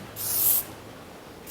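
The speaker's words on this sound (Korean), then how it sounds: "조금 더 고정을 원하시는 분들은 이제 스프레이로 이제 마무리를 해주시면 돼요." Hairspray sprayed onto hair set in a waxed regent style: one close hissing burst of about half a second, then quiet.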